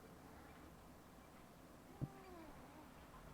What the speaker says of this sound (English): I think this Rediger is a very good cat